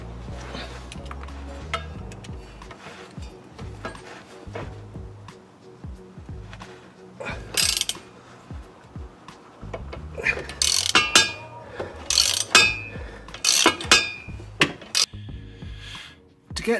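Hex head bolts being undone on an Audi 2.7 Bi-Turbo prop shaft, with close, bursty ratchet clicking and clattering metallic tool sounds between quieter pauses.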